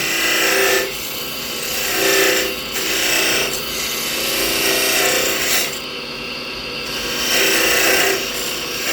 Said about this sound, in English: For that, I use a thin kerf parting tool, homemade tool, another homemade tool.